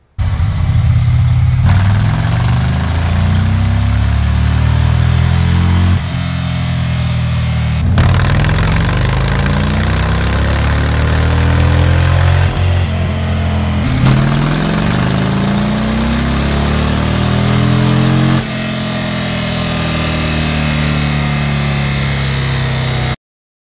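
A 2018 Indian Roadmaster Elite touring motorcycle's big V-twin runs on a dyno, loud and close, with repeated revving sweeps rising and falling between steadier idle-like stretches and no talking.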